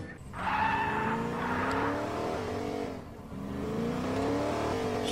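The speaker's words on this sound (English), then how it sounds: "That car is loud." A loud car engine in the Fortnite video game roars and shifts pitch up and down, revving continuously and close by with no talk over it.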